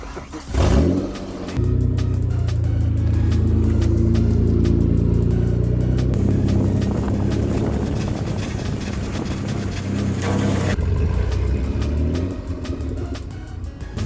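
The engine of a homemade Lamborghini Veneno replica rumbles loudly and close. It starts with a quick rev, then settles into a steady, rough idle that wavers and fades toward the end as if stalling, with no talk.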